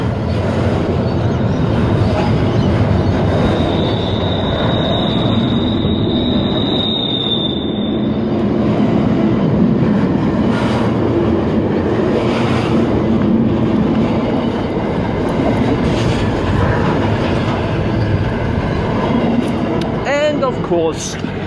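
A Sydney Waratah electric train pulls into Denistone station with a loud, steady rumble and rolling clatter, a brief high whine early on and a short wheel squeal near the end.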